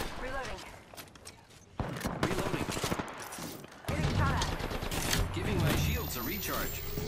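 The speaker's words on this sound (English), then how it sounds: "Getting shot at." Gunfire in Apex Legends rattles in dense bursts throughout, overlapping with game effects and speech-like chatter, with a sharp jump in intensity partway through.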